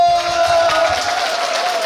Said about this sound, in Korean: 자 그러면 여기까지 박수.